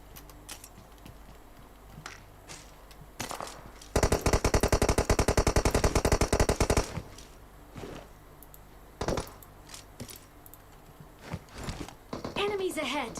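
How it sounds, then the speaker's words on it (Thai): Automatic gunfire in the PUBG Mobile video game, a rapid, loud burst of about three seconds, then scattered single shots and footsteps, with a player's voice speaking near the end. "ฉันจะยิงบอท"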